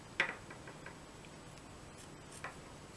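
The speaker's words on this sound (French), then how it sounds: "Et maintenant, nous allons découper pour faire la forme des oreilles." Scissors snip through sock fabric, cutting out rabbit ear shapes: two short, faint cuts about two seconds apart against a quiet room, with no talking.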